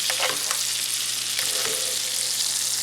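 Bison burgers frying in butter in a pan, crackling and sizzling steadily at close range, with soft scraping and spooning sounds as the butter is basted over them.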